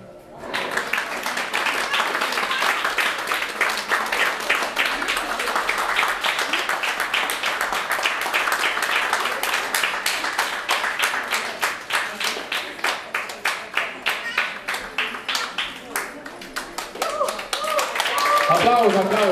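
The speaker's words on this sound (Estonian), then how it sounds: "Aplaus, aplaus, aplaus." An audience at an award ceremony claps for nearly twenty seconds, the individual hand claps sharp and distinct in a rhythmic burst, while voices speak over it.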